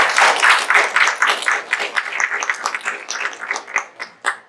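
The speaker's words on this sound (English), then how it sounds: "Let's just take a round of applause right now for you." Graduates at a graduation ceremony get a round of applause from the crowd: a dense, steady wash of clapping that slowly thins into scattered, separate claps toward the end.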